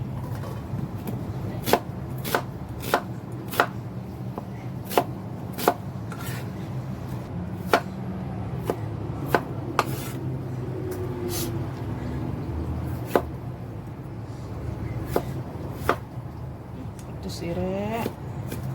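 A knife chops sambal ingredients on a cutting board in a home kitchen, with sharp, irregular taps spaced a second or two apart over low background hum, while a person talks at times.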